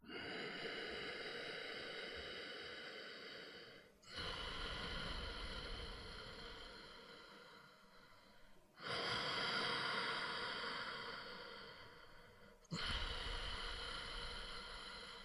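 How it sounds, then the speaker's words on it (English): Slow breathing through the nose during a yoga pose for sciatica, with long, soft airy breaths in even cycles of a few seconds each, faint and close, with no talking. "breathe through your nose here"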